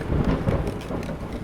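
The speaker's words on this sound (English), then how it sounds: "The rain echoes eerily through the empty halls." Rain and rolling thunder in the horror game The Horror at Highrook, echoing through the empty halls of a haunted mansion: a heavy, close rumble with dense rain hiss, loud at first and easing slightly.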